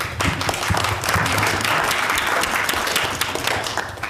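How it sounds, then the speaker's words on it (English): An audience at a community board monthly meeting claps for newly named nominating committee members. The dense applause runs steadily from start to finish and sounds full and close. "please join me in giving these folks a warm round of applause"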